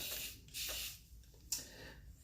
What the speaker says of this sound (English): now I'm going to spray it on my hair itself, the length of my hair